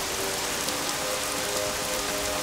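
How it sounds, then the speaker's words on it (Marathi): Heavy, steady rain pours down and hisses on the ground and other surfaces, a dense, continuous wash of sound that stays constant throughout, with no voices. "पाऊस थांबायचं नाव घेत नाही."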